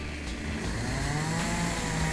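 Chainsaw pruning trees during garden work along a rural path in Alpedrete, running steadily and fairly loud throughout with a continuous buzzing drone.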